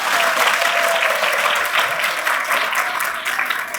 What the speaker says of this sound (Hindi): स्वागत ताली बजाकर